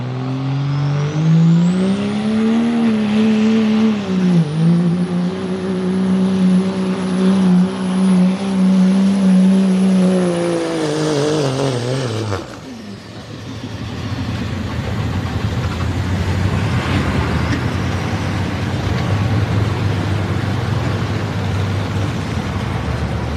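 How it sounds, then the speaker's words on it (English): A Cummins-powered Dodge truck makes a truck-pull hookup at an evening event, its loud diesel engine holding a steady, strained roar for about twelve seconds before dropping off abruptly into crowd and ambient noise. "Jamie Donati on the Cummins hookup on the Dodge powered."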